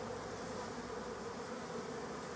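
Honeybees being moved into a long bench hive give a steady, dense buzz that fills the whole stretch at close range, with no voices over it.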